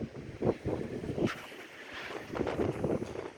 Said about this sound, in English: Well, it's windy, surprise, surprise, but sod it.